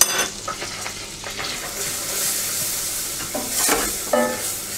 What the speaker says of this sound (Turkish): Eriyen yağın içerisine şöyle 2 yemek kaşığı un ekliyorum.